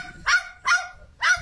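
A parrot imitating a dog's bark, three short honking barks evenly spaced about half a second apart, fairly close and clear with no talk over them.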